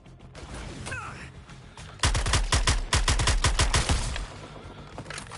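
Gunfire from weapons in the video game Suicide Squad: Kill the Justice League: after a short lead-in, a rapid loud string of shots rattles in quick bursts for about two seconds, then tails off into game ambience.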